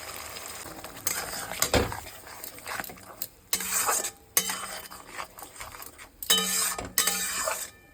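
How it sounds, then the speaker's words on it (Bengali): A creamy sesame spice paste is stirred in a frying pan, with bursts of scraping, clinking utensil strokes against the metal and a low sizzle between them, close and moderately loud. "একটুখানি নেড়ে ফেলে এবার একটু মশলাটা দিয়ে দেবো।"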